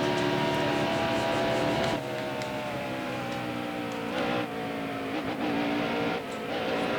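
Race car engine in the video game NASCAR Heat Evolution at Darlington, a loud sustained harmonic drone that shifts pitch as the car changes gears, with brief dips and surges while getting up to speed.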